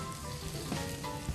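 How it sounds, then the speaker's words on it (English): Salmon fillet sizzling in hot oil in a non-stick pan, a steady close crackle of frying with a couple of slightly louder pops, brief and alone. "we should be hot enough to where we get that little sizzle"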